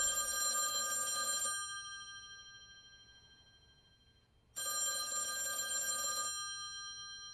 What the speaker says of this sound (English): that phone over there is gonna ring